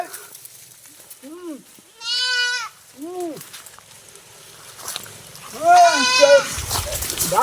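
A goat bleats several times in short, wavering cries, loud and close, with brief pauses between calls and some background noise.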